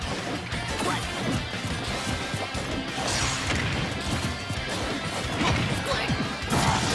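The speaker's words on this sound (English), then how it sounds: "Huge down smash." Repeated crunchy smash impacts from Super Smash Bros. Ultimate tournament gameplay, hits and swipes packed densely over several seconds amid loud game and arena noise, with a sharper strike near the end.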